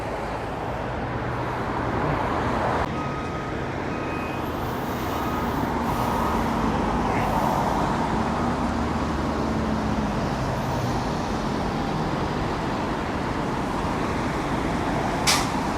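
Road traffic and buses rumble past a bus depot on Foyle Street in Derry, a steady broad wash of engine and tyre noise with a brief air-brake hiss near the end, no voices.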